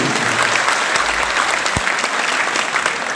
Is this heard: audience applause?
yes